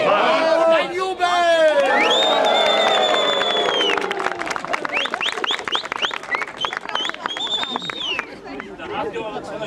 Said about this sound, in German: Und ein Jubel!